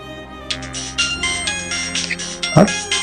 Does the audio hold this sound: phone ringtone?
yes